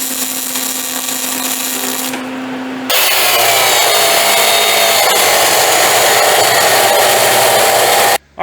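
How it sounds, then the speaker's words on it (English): Arc welding tacks joining angle iron and an axle housing on a custom car build, a loud, steady crackling buzz that runs continuously for several seconds after a brief quieter lead-in, then cuts off abruptly. "I'll probably go ahead and tack that one in 2 or 3 places."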